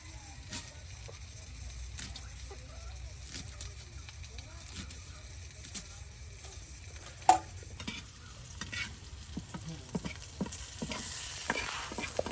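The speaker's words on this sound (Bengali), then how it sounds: "সজনে পাতা একদম তেলে ভেজে বড়া তৈরি করলে খুব মচমচে বড়া হয়।" Drumstick leaves frying in oil as fritters cooked over an outdoor fire, giving a faint, steady sizzle with occasional stirring and scraping taps throughout.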